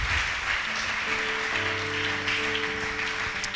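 A church congregation claps together during worship, a dense, continuous wash of applause with sustained musical tones ringing underneath.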